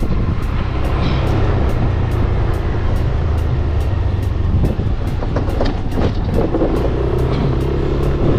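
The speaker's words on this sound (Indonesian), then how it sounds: "Jadi kalau kalian mau ngaktifin VVA nya tinggal pencet gas. Nah, VVA nya otomatis nyala" A Yamaha NMAX Neo scooter engine revs with its VVA variable valve actuation engaged, producing a loud, steady, close mechanical roar that holds for about eight seconds with small swells in intensity.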